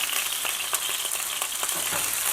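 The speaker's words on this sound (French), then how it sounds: "Et là, on va saisir la viande." Steady, loud sizzle of a Camargue AOP bull steak searing in hot oil in a frying pan, with occasional sharp pops and spatters across the continuous crackle and no talking.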